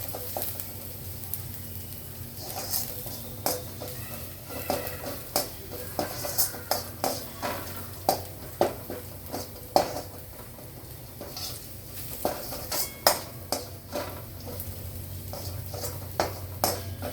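Masala frying in oil in a pan, a steady sizzle beneath repeated sharp clinks and scrapes of a spoon stirring against the metal, close and with no talk.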